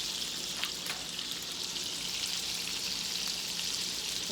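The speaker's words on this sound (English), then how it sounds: "So those are my meatballs that are cooking." Meatballs fry in a pan with a soft, steady crackling sizzle throughout, faint and even with a few small pops, no voices.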